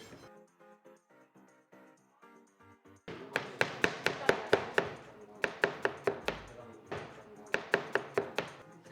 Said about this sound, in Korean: 진짜 칼질 잘한다